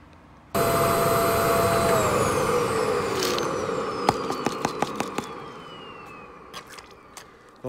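A vacuum sucks up gold-bearing gravel while gold panning in France, a loud steady roar with whistling tones, and small stones click and rattle through the hose in bursts near the end.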